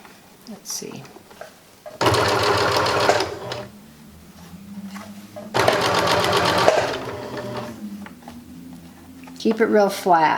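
A sewing machine stitches a seam on a reversible shoulder bag in two loud, steady runs of a couple of seconds each, separated by pauses filled with handling noise, while a person talks between the bursts.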